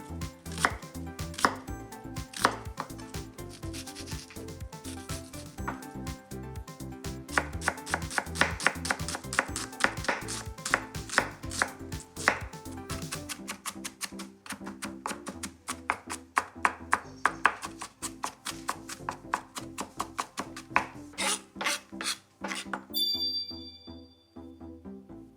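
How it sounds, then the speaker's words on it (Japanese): Onion finely minced with a kitchen knife on a cutting board for Taiwanese meatball hotpot, a fast steady run of crisp chopping taps that lasts throughout and ends abruptly, with background music and no talk. "じゃあ玉ねぎをみじん切りしていきます。"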